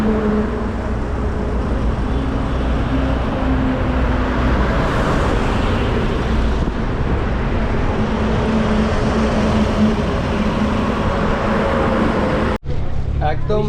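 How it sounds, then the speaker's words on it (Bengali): Traffic on a national highway rumbles steadily and loudly as vehicles pass nearby, a continuous roar with swelling passes, and a person talks over it before the sound cuts off abruptly near the end. "এই হচ্ছে ন্যাশনাল হাইওয়ে"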